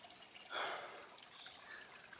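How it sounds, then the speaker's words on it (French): A forest stream flowing somewhere out of sight, heard as a faint, steady watery hiss with a brief swell near the start, with no voices. "J'entends de l'eau de nouveau."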